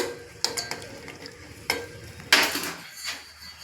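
Steady sizzling of cashews frying in hot ghee, with a few sharp metallic scrapes and clinks of a spoon stirring in a pan.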